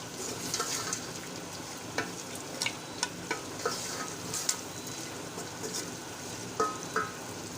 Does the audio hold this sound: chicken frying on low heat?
yes